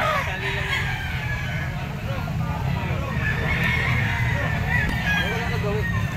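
A golden boy sweater gamecock, a banderado rooster about 12 months old, crows amid a noisy yard of other fowl, its call rising over steady clucking and background chatter with people talking throughout.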